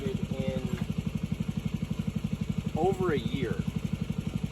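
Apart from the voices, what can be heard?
Sears tractor with 10 horsepower Chinese diesel engine running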